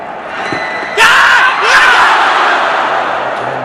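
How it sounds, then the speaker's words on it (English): Crowd at a 1999 India vs Pakistan Test cricket match in Chennai erupting in loud shouts for a catch, a sudden surge of yelling that swells twice and then holds as a roar. "Shouts of catch it."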